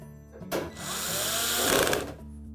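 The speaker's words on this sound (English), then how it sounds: "And then put in the rest of the retaining screws." A power driver runs steadily for about a second and a half, driving retaining screws into the overlay of a Frigidaire range. The whirring is close and fairly loud, with no talking over it.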